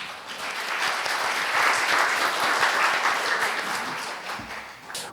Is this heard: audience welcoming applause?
yes